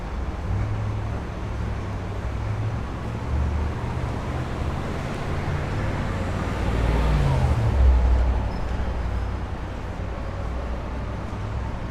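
A Pepsi delivery truck rolls past in Manhattan street traffic, a low engine rumble that swells and peaks near the middle before fading, over a constant roar of city noise.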